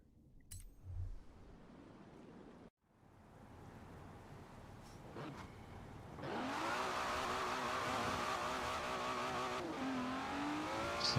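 An Aston Martin Vanquish in Forza Horizon revs its engine, with a brief burst, a pause, then a rising sustained engine note that climbs and holds loud toward the end.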